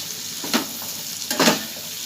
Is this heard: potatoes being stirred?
yes